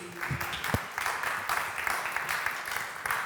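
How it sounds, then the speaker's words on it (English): Audience applause at a marble machine music talk, a moderate patter of clapping from a crowd, fairly even and somewhat distant. "And a round of applause, please"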